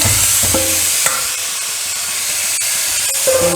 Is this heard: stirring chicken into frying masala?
yes